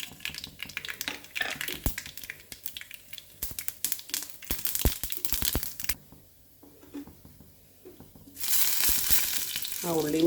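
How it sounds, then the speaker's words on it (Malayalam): Mustard seeds hit hot coconut oil in a pan for a Kerala drumstick-leaf thoran, giving scattered sharp popping crackles and sizzle up close, then a quieter stretch and a final burst of steady frying hiss. "അതിലേക്ക് നമുക്ക് കടുക് ഇട്ട് കൊടുക്കാം."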